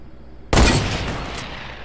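A single loud, close rifle shot cracks in a battle royale video game firefight, its sharp blast decaying into a long rumbling echo over the following second.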